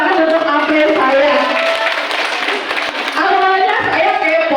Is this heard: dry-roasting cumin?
no